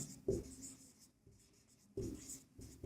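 Chalk or marker scratching across a board during a Class 10 maths lesson on surface area and volume, two short bursts of writing separated by a quieter pause.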